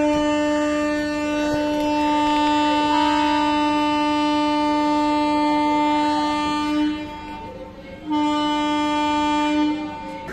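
A train departing Tiruchirappalli Junction sounds a loud, sustained multi-tone horn for about seven seconds, pauses briefly, then blasts again, over a low rumble of the rolling carriages.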